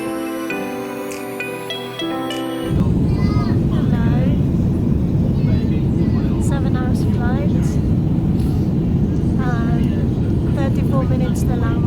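Steady low roar of a passenger airplane cabin in flight on a long-haul trip from the UK toward the Philippines, filling the clip after a few seconds of music, with people talking over the constant drone.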